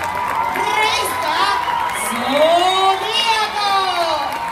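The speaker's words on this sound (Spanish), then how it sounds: "Bien fuerte el aplauso para recibir revista" A crowd at the launch event for Zodíaco magazine cheers and applauds loudly, with whoops and shouting voices riding over a steady wash of noise that swells and holds throughout.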